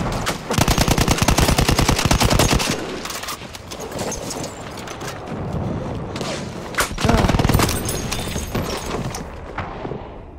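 BAR M1918 rifle fire in Battlefield 1 at Cape Helles: rapid automatic bursts crack out loud and close, one long burst first, then further bursts after a quieter stretch of battle noise.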